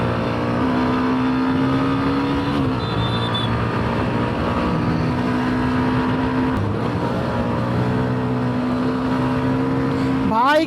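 A new 2026 Hero Xtreme 125 motorcycle rides at speed through city traffic, its engine holding a steady, droning pitch with brief shifts, loud and close alongside wind and road noise, while the rider talks.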